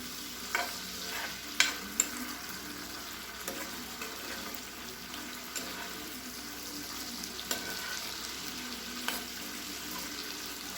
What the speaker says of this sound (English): Make sure our shrimp don't burn. You just want to saute it a little bit.